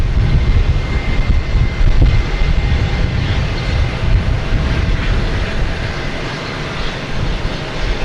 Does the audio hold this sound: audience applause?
no